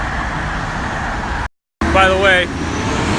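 Steady road traffic rumbles close by while walking along a roadside, with a brief dropout in the middle. Someone talks over the continuous roar of passing vehicles.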